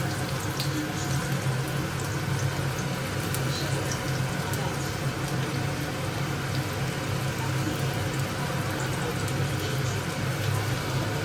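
Chopped garlic and onion frying together in hot oil give a steady, even hiss that holds from start to finish without a break.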